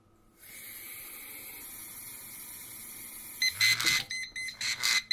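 A quiet hiss begins, then several short electronic beeps from a kitchen appliance sound in quick succession while milk is measured, with running water or steam noise between them, fairly close.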